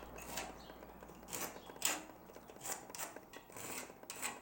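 A tool scrapes and rubs repeatedly across wood, tracing the outline of a socket in soft rasping strokes that rise and fall at close range.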